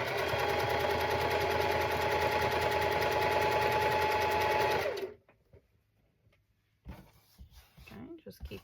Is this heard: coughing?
no